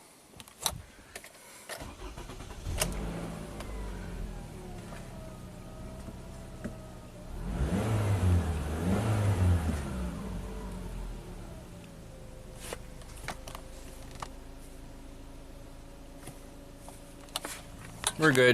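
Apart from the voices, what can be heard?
Toyota Camry driving on test drive after repair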